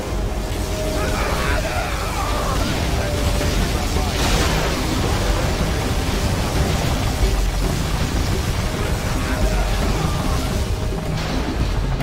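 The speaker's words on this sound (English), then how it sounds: "Particle cannon activated." Particle cannon firing in the strategy game C&C Generals Zero Hour: a dense, roaring wash of sustained energy with crackling bursts that swell near the middle, loud and continuous throughout.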